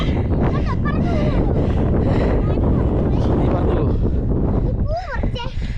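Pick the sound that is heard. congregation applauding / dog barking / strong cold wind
strong cold wind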